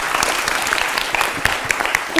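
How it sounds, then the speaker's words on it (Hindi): A studio audience on a Hindi news show claps loudly and steadily in celebration of the Chandrayaan-3 launch, a dense wash of hand claps with sharp individual claps standing out. "जोर से तालियां बजाकर सेलिब्रेट कर दीजिए"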